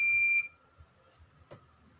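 Homemade magnetic door alarm buzzer sounding a steady high electronic tone for about half a second before it cuts out, followed by faint handling noises.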